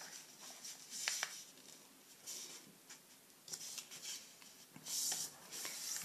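Soft rustling and rubbing of paper being folded and creased into an origami whale, quiet and close, in irregular strokes.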